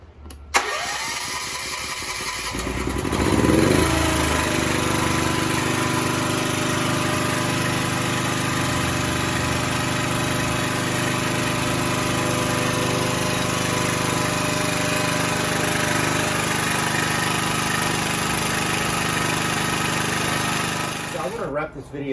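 A Honda 4000 generator converted to natural gas cranks and catches, then settles into a steady, loud, close mechanical running hum that holds for about twenty seconds before cutting off.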